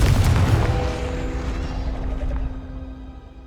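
A Confringo spell detonates in Hogwarts Legacy, a deep booming blast that starts loud and then rumbles and fades away over a few seconds, with no voices over it.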